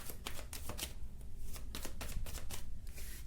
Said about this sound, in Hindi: चलिए ऐसे शफल कर देते हैं